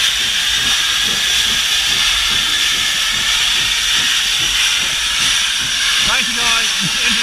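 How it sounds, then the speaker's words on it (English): Steam locomotives hiss loudly and continuously in a close, dense wash of steam, with a short whistle-like tone near the end and a voice talking underneath. "If you can hear me over all the whistles and steam engines going."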